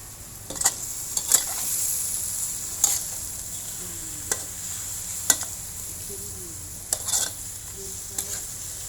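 Chicken and bell peppers being stir-fried in a pan, with a soft steady sizzle under repeated sharp scrapes and clinks of a utensil stirring, heard close with no talking.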